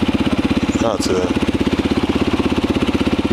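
A Kawasaki KLX 250 motorcycle engine idles nearby with a steady, loud pulsing thump throughout, with brief speech near the middle.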